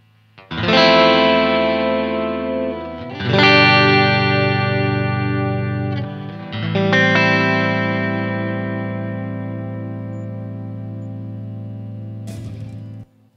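An electric guitar plays through a Blackstar Dept. 10 boost pedal that is switched on. Three ringing chords are struck in turn, each left to sustain and decay, and the tone is full and close.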